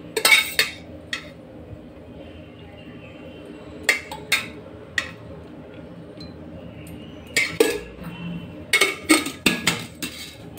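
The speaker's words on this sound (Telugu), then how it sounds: "ముందుగా స్టవ్ ఆన్ చేసుకొని దానిపైన ఒక కడాయి పెట్టుకొని అందులో ఆయిల్" A metal kadai clanks down on a stove with scattered clinks and taps of utensils against the pan, close by and intermittent, with soft background hum between the knocks.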